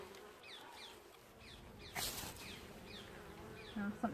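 A wasp buzzes close by near the entrance of a beehive, with short whining passes sweeping in and out against a quiet outdoor background, briefly under a soft rustle.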